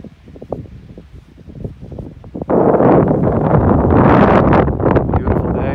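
Wind blows across Long Pasture beach on Cape Cod on a summer morning, a low broadband rush that picks up sharply partway through and stays loud and steady, buffeting the microphone.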